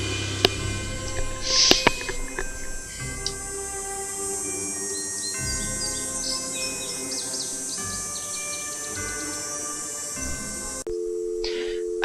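Bird calls and chirps from the Nancy Drew: The Ghost Dogs of Moon Lake video game repeat steadily over a constant outdoor ambience with insect-like tones, moderately quiet and with no one talking.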